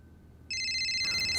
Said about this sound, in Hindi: मेरा फ़ोन बजा ना, मतलब मेरा वाला।